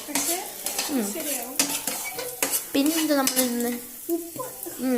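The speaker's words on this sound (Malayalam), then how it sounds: "ഇനി നല്ലതായിട്ട് മിക്സ് ചെയ്യണം" A spoon stirring a chutney mixture in a pan, scraping and clinking close by with a faint sizzle underneath, steady and continuous.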